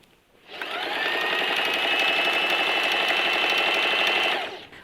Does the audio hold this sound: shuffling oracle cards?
no